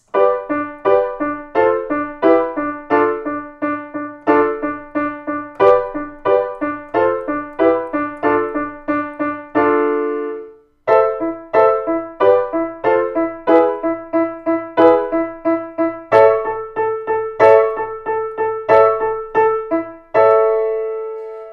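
Piano playing a section of a piece: brisk, evenly repeated chord and note patterns alternating between the hands, with a brief pause midway and a held final chord, clear and solo.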